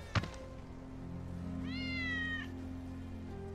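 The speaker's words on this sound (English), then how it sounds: "Hear that? It's Wedge's cat." A cat meows in the Final Fantasy 7 Remake video game, one drawn-out rising and falling call at moderate loudness over a steady low ambient game hum, preceded by a brief soft thump.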